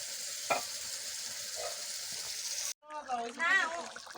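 Chitol fish belly pieces dropped into hot oil with fried-down spices give a steady, fairly loud sizzle and crackle, followed by a voice talking over the cooking.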